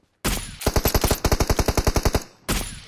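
Laser-sighted gun in PUBG Mobile firing a rapid burst of about eighteen sharp, evenly spaced shots up close, a brief pause, then another burst starting at the end.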